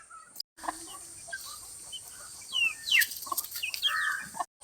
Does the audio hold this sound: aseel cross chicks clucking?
yes